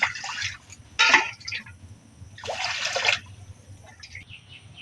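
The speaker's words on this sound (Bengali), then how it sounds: "কড়ার মধ্যে জল দিয়ে দেবো বন্ধুরা এই যে জলটা একটু গরম হবে" Water poured into a wok set on a lit village stove to heat for boiling chow mein, heard as two or three short splashing pours over a low background rumble, with faint birds.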